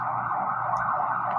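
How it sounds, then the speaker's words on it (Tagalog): An ambulance siren sounds loud and steady, a sustained wailing tone filling the moment with no speech over it. "Ang ingay naman ng ambulansya eh."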